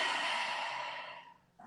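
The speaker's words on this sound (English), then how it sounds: "Now I'm making a roaring sound." A single roaring exhale from a pranayama breathing technique done with the tongue out, a close, breathy rush that fades out over about a second and a half.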